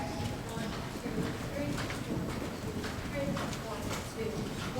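Horses' hooves during a riding lesson in an arena, steady rhythmic clip-clop of walking and trotting hoofbeats at moderate distance, with faint background voices.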